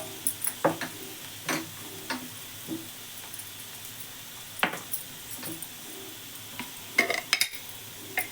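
Carrot fry stirred in a pan over a medium flame, soft scraping and clicking of the spoon in irregular strokes over a faint background sizzle, close and without talk.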